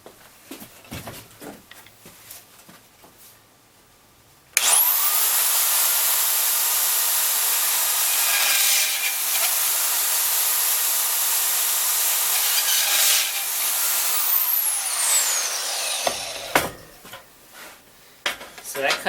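A Milwaukee 6238-20 AC/DC deep-cut two-speed portable band saw cutting through thin metal tubing, a loud, steady hissing roar lasting about eleven seconds between quieter handling noises.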